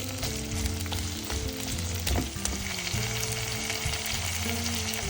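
Salted onions frying in a pan for a crab roast, with a dense, continuous close sizzle and crackle and a few soft stirring scrapes, no voices.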